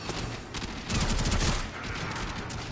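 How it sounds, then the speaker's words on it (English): Rapid bursts of gunfire from the video game Warframe rattle close and loud, swelling into a dense volley midway before easing back to scattered shots. "Oh my god, he's shooting."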